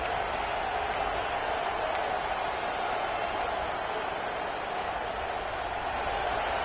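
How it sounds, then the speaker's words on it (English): A college football stadium crowd roars steadily during a red-zone defensive stand, a dense, sustained wash of cheering that holds at an even level throughout without a break. "And the crowd coming to life here, trying to help this defense down in the red zone."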